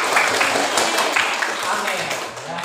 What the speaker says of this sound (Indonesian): kasih tepuk tangan untuk Sheila